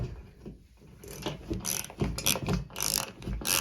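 A screw is driven into a wall stud for a TV mount, heard as close, quiet ratcheting clicks and short bursts of grinding turns in an irregular rhythm.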